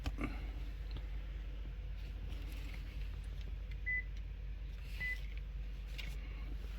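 Two short electronic beeps from a 2018 Lexus 460 during key programming sound apart against a steady low hum, one near the middle and one shortly after, with no talking.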